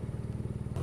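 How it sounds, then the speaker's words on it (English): Steady low rumbling throb of a 2014 BMW R nineT's boxer twin engine while riding, a continuous close engine drone with a slight rise near the end. "riding this motorcycle with a boxer engine"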